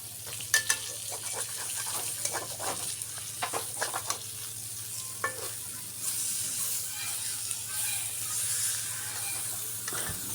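Chepa puli, spicy rice cakes, frying in a pan as they are flipped and turned, a steady soft sizzle with scattered scraping clicks from the utensil, fairly quiet and close throughout.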